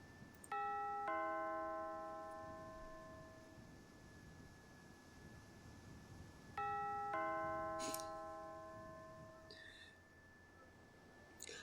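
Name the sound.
doorbell ringing in point-and-click video game The Last Time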